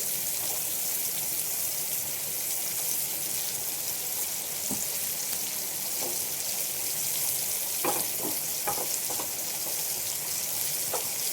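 Thick pieces of shingta fish frying gently in a little oil over a low gas flame, giving a steady soft sizzle with a few brief crackles and pops partway through. No talking is heard.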